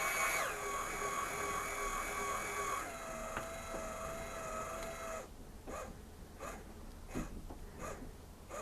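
A Lyman Gen6 electronic powder dispenser fills its pan with a steady mechanical whine and tonal motor hum that shifts pitch partway, then drops off to a quieter rattling trickle with a few faint clicks.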